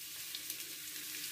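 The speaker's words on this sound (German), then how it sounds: "Jetzt fange ich an mit meinen Zwiebeln in der Pfanne mit etwas Öl." Onions frying in a pan with a little oil give a steady, close hiss and crackle of sizzling throughout, with faint stirring and no talking.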